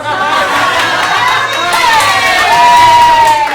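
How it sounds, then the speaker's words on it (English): A comedy show audience cheers loudly, with whoops and high shouts rising over a continuous crowd roar, close and sustained throughout. "judging by that applause"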